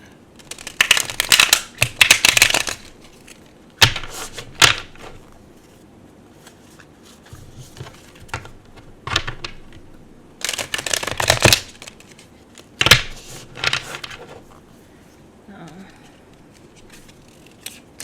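A Spirit Animal Oracle card deck being shuffled by hand in several separate bursts of riffling and rustling, close and fairly loud, with quiet pauses between them.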